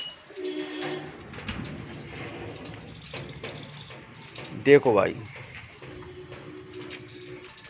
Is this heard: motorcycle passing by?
no